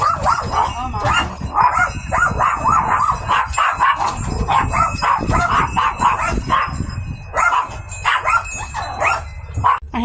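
Several dogs bark excitedly at a passing dog walker outside a home porch on a spring day, a rapid string of loud barks, yips and whimpers over about ten seconds with a person talking over them.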